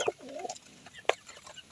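Soft pigeon cooing with a couple of short bird calls, fairly faint against a quiet outdoor background.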